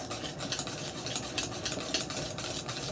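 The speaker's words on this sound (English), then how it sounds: "I'm going to take it right off the heat right now and whisk it like crazy." Vanilla pastry cream whisked hard in a pot off the heat, a fast, steady, close rhythmic scraping and swishing with regular strokes and no talk.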